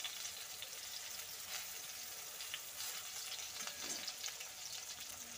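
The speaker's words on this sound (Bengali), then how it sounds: "তো বেগুনটা কিন্তু আমার ভাজা প্রায় হয়ে গেছে" Eggplant frying uncovered in hot oil in a pan, a steady close hiss of sizzling with faint crackles throughout, no voices.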